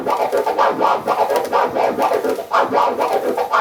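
Turntable scratching in a rapid tear-and-flare pattern cuts a vinyl "freak out" vocal sample into a steady, rhythmic series of choppy bursts, played alone at a moderate level.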